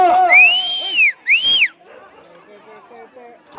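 Whistles blown at a village bullock cart pulling contest in Pottapi, Nandalur mandal, Kadapa district: two loud, close rising-and-falling whistle blasts in quick succession, followed by a low murmur of crowd chatter.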